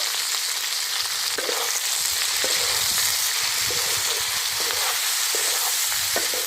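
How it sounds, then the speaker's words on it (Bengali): Kudri (ivy gourd) frying in a pan with salt and turmeric: a steady close-up sizzle of oil with repeated soft scrapes and knocks of a spatula stirring, no voices. "আরেকটু ভেজে নেব"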